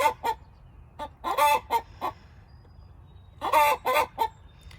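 Brahma hens near a nest box give bursts of loud, close clucks and squawks in two clusters separated by a short pause, against a faint windy outdoor background.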